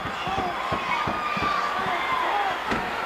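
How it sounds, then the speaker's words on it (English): A wrestling crowd at the Sam Houston Coliseum roars in a sustained loud uproar, with thumps and slams from the ring scattered through it and an announcer talking over the noise. "Look at this tremendous uproar of this crowd here at the Sam Houston Coliseum"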